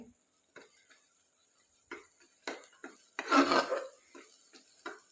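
Masala sautéing and being stirred in oil in a pan: faint, scattered taps and scrapes of a spoon against the pan, with one louder scraping stir partway through.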